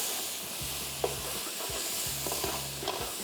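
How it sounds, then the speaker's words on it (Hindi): Ground coriander, turmeric and red chilli powder frying with onions in oil for prawn biryani: a steady close sizzle with several scraping stirs of a spoon against the pan. "इसको भी थोड़ा सा करेंगे फ्राई"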